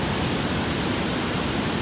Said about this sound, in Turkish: Şöyle bakın şöyle dere gölün içine akıyor.